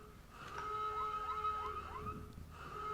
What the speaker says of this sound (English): So you have the sirens blaring